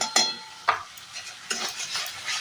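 Ginger is stirred into a pan with ground spices for jackfruit kofta curry, giving a few sharp spatula scrapes and swishes over a faint, low sizzle, close by and without speech.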